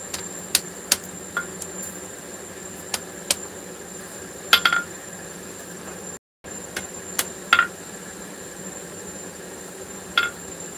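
Hammer blows on hot metal during a forge weld attempt, a handful of sharp ringing strikes spaced irregularly over a steady background hum, with no talk.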